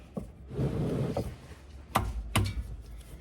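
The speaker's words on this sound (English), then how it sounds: "put a hole in the bottom of the oil filter to let that drain out" A sharp punch driven into the bottom of an oil filter on a 2019 Ford Super Duty 6.7 Power Stroke diesel, giving a few distinct metallic taps and pokes over a low rustling background, close and moderately loud.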